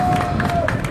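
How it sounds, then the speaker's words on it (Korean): A dense, steady roar of applause from a crowd at a rally. It is brief and loud and fills the space. "박수 한번 부탁드립니다"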